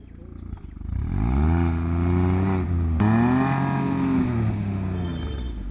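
A car engine revs and accelerates close by as the vehicle pulls out onto a snowy road, a steady rising drone with harmonic whine, with a voice talking over it.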